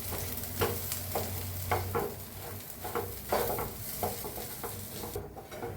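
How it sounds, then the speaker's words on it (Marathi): A spiced pea mixture with turmeric, salt and coriander powder is stirred in a pan on the stove, giving soft rhythmic scraping and a light sizzle, close and fairly quiet, with no voices. "आता मिक्स करून घेऊया।"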